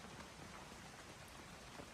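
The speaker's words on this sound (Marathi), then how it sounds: "तर मित्रांनो तुम्ही पाहू शकता किती जोरात पाऊस आलेला आहे." Heavy rain pours steadily in a forest during an outdoor cooking trip, a dense, unbroken hiss of drops striking leaves and surfaces at close range, with no voices.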